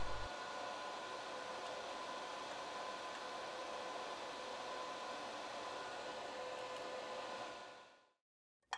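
A steady, loud rush of blowing air from an ultrasonic watch cleaner's parts dryer runs continuously for about eight seconds, then cuts off abruptly.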